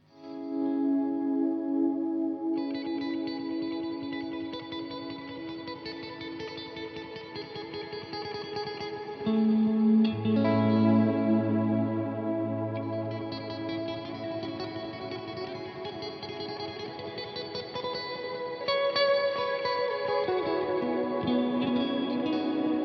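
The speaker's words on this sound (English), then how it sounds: "you can do some tremolo picking swells, and it sounds great with this amp" Electric guitar through a Headfirst Alta amp playing shimmering tremolo-picked swells drenched in reverb and delay, sustained and steady, with a deeper layered swell entering midway; no voices.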